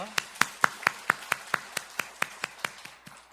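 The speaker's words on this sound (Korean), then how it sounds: "우리 하나님께 감사와 영광의 박수 올려드리겠습니다" Congregation at a Korean church's Sunday afternoon praise worship service clapping in unison, about fourteen sharp, evenly spaced claps in a steady quick rhythm, close and clear, tapering slightly at the end.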